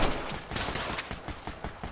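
Rapid gunfire rings out in the tactical shooter game Ready or Not, a quick run of sharp repeated shots in an irregular burst, moderately loud with no talk.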